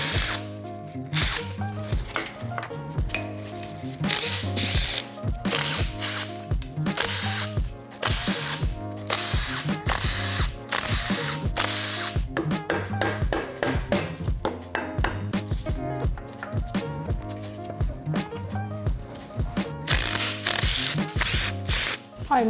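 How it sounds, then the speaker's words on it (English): A Makita power ratchet rattles through engine bolts on a Volvo V70 2.5T engine, a dense, loud run of fast ratcheting clicks in repeated bursts with brief pauses, close to the mic and without speech. "I don't like to use my Makita on YouTube because people always complain that I should loosen everything by hand"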